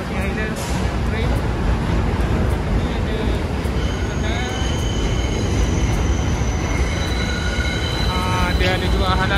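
A train at the Coney Island station rumbles continuously, with metallic wheel squeals and high tones rising over the steady roar, loud and close.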